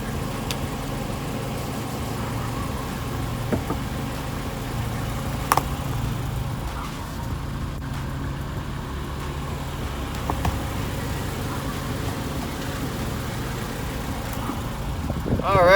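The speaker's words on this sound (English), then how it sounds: "let's see how it does being run over several times with a vehicle" A vehicle drives over a Black Scout Survival Light A1S V2 flashlight, producing a steady, close engine hum that sounds like idling, with a few faint knocks throughout.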